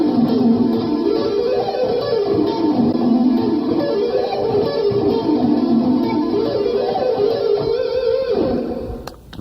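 Electric guitar lick running through pentatonic shapes, a fast flowing line of notes played close and clear with effects, ending abruptly, no voices.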